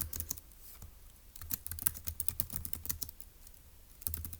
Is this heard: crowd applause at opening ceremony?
no